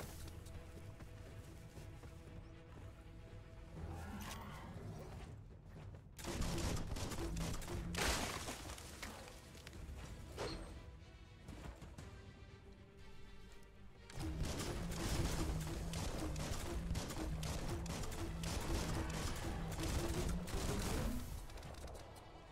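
Bursts of gunfire in the game Biomutant, heavy and continuous with thumps and crashes, over music-like tonal layers, growing denser in the second half.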